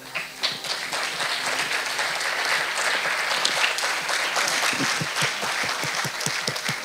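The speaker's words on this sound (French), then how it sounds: "je vous invite à l'applaudir" Event audience gives a sustained round of applause, a steady roar of many hands clapping, then fades into sharper, more distinct claps toward the end with some voices audible.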